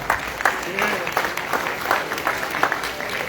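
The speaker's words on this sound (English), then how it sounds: "give yourself a round of applause" An audience at a university football championship meet-and-greet claps in a moderate, patchy round, with individual hand claps standing out and some crowd voices mixed in.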